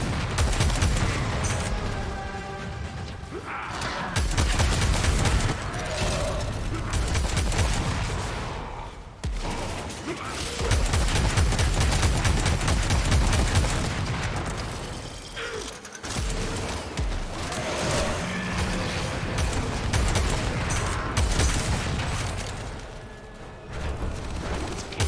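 Weapon fire in the video game Warframe, rapid dense bursts of shots and mechanical clatter running almost continuously, loud and near, with short breaks between volleys.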